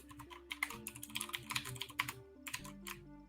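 Rapid typing on a computer keyboard during a Kotlin coding session: dense, close, irregular key clicks over soft background music, with no talking.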